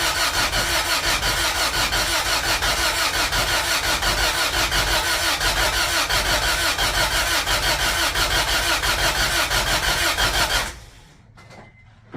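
A 2001 Acura Integra Type R engine runs loud and steady for about ten seconds with a dense, even drone, then cuts out abruptly, leaving near silence at the end.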